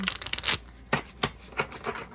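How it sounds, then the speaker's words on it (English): Oracle deck cards being shuffled by hand, a few distinct crisp riffles and flicks spaced apart, close and fairly quiet with no talk. "Shuffling these cards, her decks are great because she does give you such a nice size volume. They shuffle really great."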